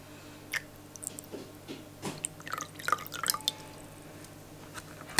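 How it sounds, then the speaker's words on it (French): Syrup poured into a Vietnamese-style dessert with crushed ice, heard as close, scattered wet drips and squishy splashes in uneven bursts, growing busier toward the end, with no voices. "Donc il faut mettre le reste du sirop."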